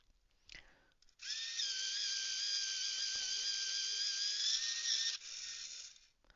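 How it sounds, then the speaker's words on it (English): An electric pencil sharpener grinds on its medium setting, a steady high whine that runs for about four seconds after a brief click, then drops off abruptly, close and clear. "And it does a much longer sharpen, a finer sharpen, a thinner sharpen on the medium."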